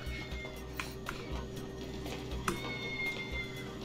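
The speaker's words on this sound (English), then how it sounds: "Is that a cat?" A cat meows in Grand Theft Auto V, a few faint, short mewing calls over low game ambience and a steady background hum.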